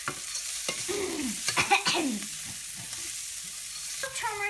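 Turmeric-dusted eggs and Malabar spinach frying in a pan with oil, stirred and scraped by a utensil in a few distinct strokes over a steady low sizzle, close and with no voices.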